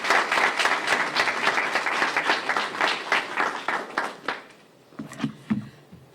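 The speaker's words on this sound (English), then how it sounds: "let's give a round of applause for the Honorable Mayor Valli" A crowd applauds the mayor at an economic development press briefing, with dense, lively clapping for over four seconds that then drops to a few scattered claps and a faint voice.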